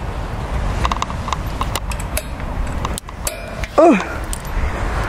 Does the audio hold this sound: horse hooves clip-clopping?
yes